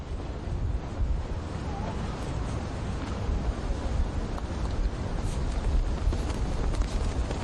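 Strong wind on Morocco's Atlantic coast at Essaouira, a surf and kitesurf spot, roaring as a steady, loud broadband rush with surf-like noise that holds unbroken for the whole stretch, with no voices.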